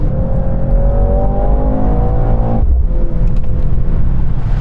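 A Mercedes-AMG C63 accelerates hard on a test track, its engine note rising loud and close for over two seconds before easing off, then continuing at a steadier drone.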